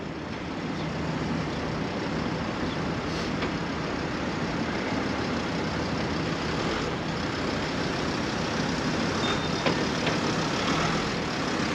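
A lorry engine idles at a booth, a steady low rumble holding at an even level throughout with no talk over it.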